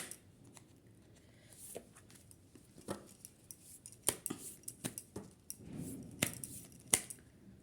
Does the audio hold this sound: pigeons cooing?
no